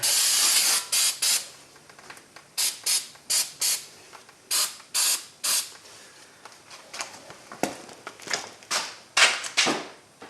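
Brake cleaner aerosol sprayed in a series of short, loud hissing bursts on the front brakes of a 2016 Kia Sorento, close up, with brief pauses between bursts and no talking.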